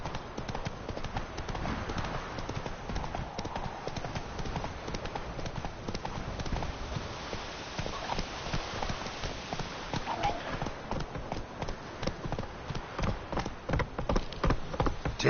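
A horse's hooves clip-clop steadily in a PS4 video game, a continuous trotting rhythm of close, even beats that lasts throughout.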